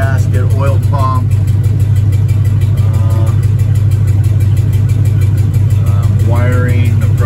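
A 1965 Chevrolet Malibu with a Chevy 350 V8 idles loud and close in a steady low rumble as someone talks over it.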